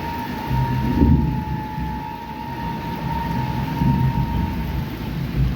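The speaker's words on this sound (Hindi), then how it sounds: "क्या बादल गरज रहे भाई" A deep, continuous rumble rolls on with a steady hiss over it, swelling slightly at moments, like distant thunder.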